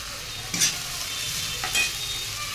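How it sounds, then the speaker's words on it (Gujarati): Paneer curry gets stirred in a frying pan, a steady close sizzle broken by two brief scraping strokes of a spoon, with no talking. "બધું બરાબર મિક્સ કરી લેશું"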